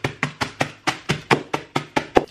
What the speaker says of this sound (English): How do I crush these without being extremely loud?